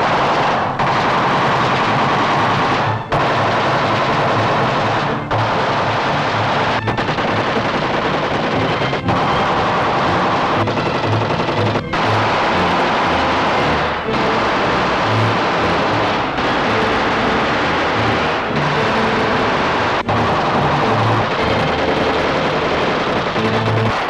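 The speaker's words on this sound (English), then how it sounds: "It's the Mattel Thunderburp with the real vibrasonic sound chamber that's loaded forever and ever." A Mattel Thunderburp toy machine gun with a vibrasonic sound chamber firing at 600 shots a minute, a loud, continuous, rapid rattling burst with brief pauses between long strings of fire.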